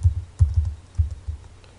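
A computer keyboard being typed on, most likely to enter a password: a few soft, uneven keystroke taps with short pauses between them, quiet and close, with no talking.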